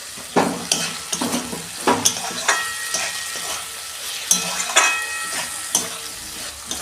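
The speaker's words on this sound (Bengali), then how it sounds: "এই চিংড়ি মাছটা দিয়ে দিচ্ছি।" Shrimp frying in a pan for a bottle gourd curry, sizzling under repeated close stirring and scraping strokes that land in an uneven rhythm.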